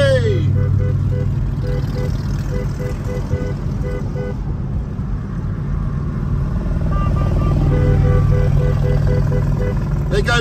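Harley-Davidson motorcycles on a rally ride roaring past at close range, a loud continuous engine rumble with horn toots, heard under a person's talk.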